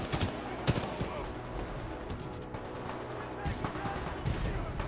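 BT's supporting fire in the Titanfall 2 shooter game, a continuous, dense barrage of rapid gunshots and blasts pounding away throughout, loud and busy with sharp impacts scattered through it.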